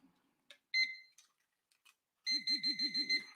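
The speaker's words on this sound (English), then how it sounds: "A little handheld. It's a pinpointer metal detector" A handheld pinpointer metal detector gives short electronic beeps, first a few isolated chirps, then a quick warbling run of rising and falling tones, close and fairly quiet.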